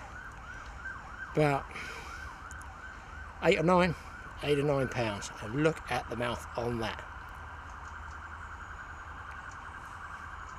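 A far-off siren, either a fire alarm or an ambulance, wails in rising and falling sweeps behind someone speaking at a pike-fishing spot, coming in short bursts.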